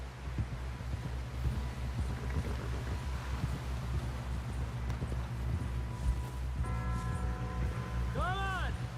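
Horse hooves gallop in Red Dead Redemption 2 in a steady, rapid clip-clop that runs throughout with wind noise, while voices talk over the last stretch.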